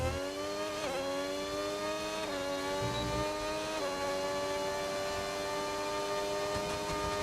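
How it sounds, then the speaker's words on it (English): A race car engine in a racing video game set at Silverstone holds a steady, droning whine with bright harmonics, its pitch dipping briefly a few times as if shifting gears, over a constant hum. "Surely this isn't that engine, because it sounds nice."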